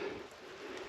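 Rainwater dripping off trees in an opening beside a remote alpine lake after overnight rain, heard as a soft, steady patter of scattered drops, faint and continuous with no voices.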